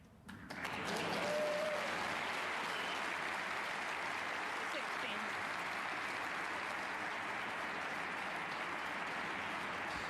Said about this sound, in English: That applause, I can tell you, is for Sir.